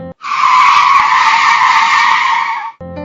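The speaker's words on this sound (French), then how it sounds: "disparut dans un crissement de pneus sur la route menant à la ville" Car tires screech loudly as a car speeds off down a road toward town, one sustained high squeal lasting under three seconds that starts abruptly and cuts off sharply.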